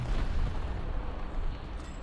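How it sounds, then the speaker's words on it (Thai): A delayed-fuse aircraft bomb bursts near a warship in a naval battle game, a dull, rolling boom followed by a low rumbling roar that lingers for about two seconds. "ทิ้งใส่เรายังไม่ระเบิด เป็นชนวนถ่วงระเบิดครับ โอ้โห มาระเบิดทีหลัง"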